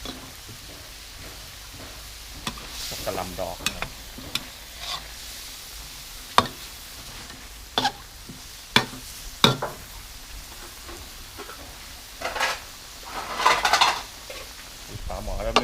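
Mixed vegetables, marinated pork and glass noodles stir-frying in a pan, with a steady soft sizzle and repeated clacks and scrapes of a utensil against the pan, heard alone without talk.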